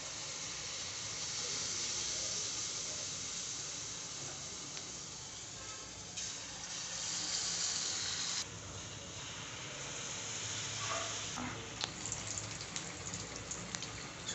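Batter ladled into hot oil for a quick homemade sweet, frying with a steady broad hiss and sizzle, loud and close, with faint clinks and small pops near the end and no talking.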